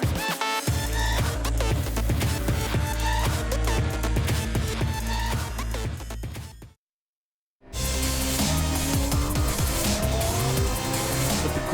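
Race cars in a production sports endurance race at Mount Panorama, Bathurst, roar loudly and continuously past with high revving engines and gear changes, broken by a brief silent gap before the engine noise resumes at full strength.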